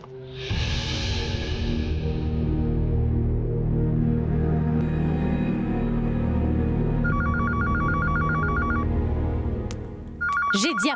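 A landline telephone rings at night, loud electronic ring bursts repeating after a whooshing start, close and alone with no talk over it.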